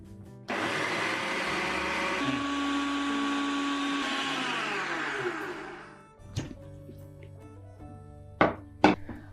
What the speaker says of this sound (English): Now add the roasted oats to a blender and blend until you get a fine powder.